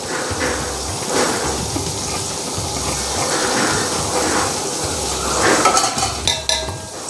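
Coriander and mint sizzle in a biryani pot while a utensil stirs and scrapes against the metal, giving a continuous frying hiss with rhythmic clatter that grows busier toward the end.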